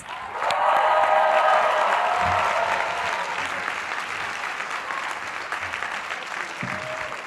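Applause from a large commencement crowd at a Columbia College graduation ceremony greets Tom Kitt, a loud sustained wash of clapping that swells quickly, holds, then gradually thins toward the end.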